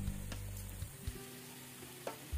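Cucumber thalipeeth cooks in oil on low heat with a faint, quiet sizzle, broken by a few soft clicks and taps over a low hum.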